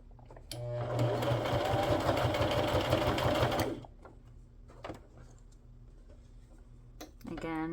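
Sewing machine stitching a slimline journal, one fast continuous run of about three seconds, close and loud, then a few quiet clicks and handling sounds.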